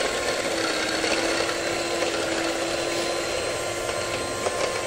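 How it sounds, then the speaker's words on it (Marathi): A hand blender whips coffee into froth for a homemade cappuccino, giving a steady, close, loud whirring hum that runs continuously with no talk. "आपण आता हे ब्लेंड करून घेऊया।"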